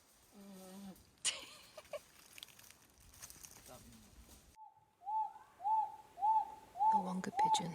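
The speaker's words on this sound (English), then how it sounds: "The Wonga pigeon." Speech and rustling early on, then a run of repeated, evenly spaced single-note Wonga pigeon calls, loud and clear, one after another, in bushland at O'Reilly's National Park.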